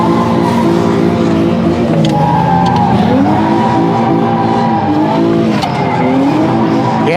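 Sim-racing car drifting with the e-brake and clutch, a loud sustained engine drone with rising and falling revs and squealing tires running continuously throughout.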